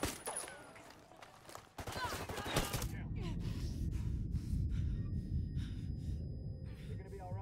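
Gunfire in the video game Ghost Recon Wildlands: sharp shots and a rapid burst crack out near the start, then a dense, continuous rumble of distant firefight and action runs underneath, with a voice breathing or gasping.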